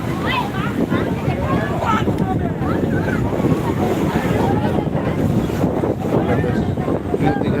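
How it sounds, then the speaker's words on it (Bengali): Rough, surging sea waves at Digha beach roar continuously, mixed with heavy wind buffeting and no clear breaks between the swells. "ব্যাপক উত্তাল রয়েছে সমুদ্র এই মুহূর্তে"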